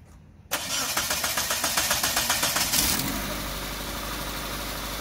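A Mitsubishi Lancer Evolution IV under restoration, with a small exhaust leak, cranks briefly with a rhythmic starter whir, catches, revs, then settles into a steady idle, close and loud.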